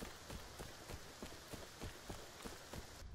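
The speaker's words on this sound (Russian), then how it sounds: "Первая же катка и дождь сразу." Steady rain falling in the tactical shooter Arena Breakout Infinite, a continuous hiss with soft regular footstep-like thuds running through it, fairly quiet and with no voices.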